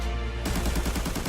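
Automatic rifle fire in Arena Breakout rattles out in a rapid, even burst of close, punchy shots with recoil thumps, starting abruptly after a brief pause.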